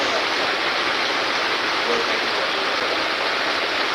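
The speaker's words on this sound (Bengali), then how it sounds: "প্রচণ্ড মৌসুম দ্বারা বৃষ্টি হচ্ছে" Heavy monsoon rain heard from a roadside shop selling auto-rickshaw batteries, a loud, dense, unbroken hiss of pouring water that stays constant throughout.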